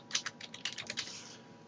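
Rapid, light clicking of keys on a computer keyboard as a file path is typed into Windows XP Pro scanner settings, a quick burst of close keystrokes with no voices.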